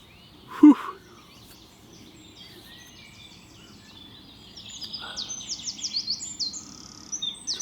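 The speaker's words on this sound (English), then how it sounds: "The birds tweeting away." Birds tweeting outdoors at a carp fishing spot, a sharp knock near the start, then a run of bright chirps and trills in the latter half, clear and moderately close with no talking.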